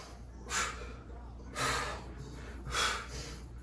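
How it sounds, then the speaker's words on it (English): Forceful exhalations during a reverse crunch home workout, three distinct breathy bursts spaced about a second apart over a low steady background hum, close and fairly loud. "Now as you push up, I want you to breathe out."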